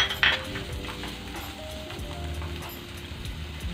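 Steady close sizzling of finely chopped onion frying in a pan over a high flame, with a soft scrape of stirring near the start against a low background hum.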